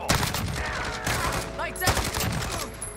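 Rapid automatic gunfire from the Ravenous CR-56 AMAX assault rifle in Modern Warfare, dense bursts with other shots and game noise in a busy firefight, close and loud throughout the few seconds.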